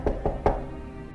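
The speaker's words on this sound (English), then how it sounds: "I took the stairs to the 4th floor, knocked on 4B. Nothing. Knocked harder." Three firm knocks on an apartment door, a quick pair followed by a slightly louder third, close and dry with no talk over them.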